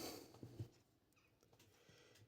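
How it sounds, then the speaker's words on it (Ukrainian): A house cat meows indoors during a repair job, a couple of short faint calls near the start followed by quiet room noise. "зараз кот, з котиком розберуся"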